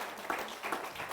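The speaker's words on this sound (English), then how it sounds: "One last big round of applause for our second grade Terrific Kid." A crowd claps for a second-grade Terrific Kid award winner at a school ceremony, giving steady, moderately distant applause with no voices over it.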